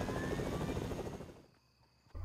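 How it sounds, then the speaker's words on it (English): A helicopter in the Fortnite video game whirs with a steady, loud rotor buzz that fades away over about a second and a half, leaving near silence before a brief return of noise at the end. "got the helicopter and got out."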